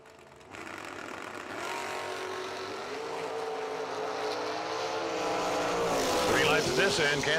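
A topless Corvette roadster with a 542 dial and a pickup truck drag race down the strip, their engines roaring loudly and steadily, the sound building toward the finish.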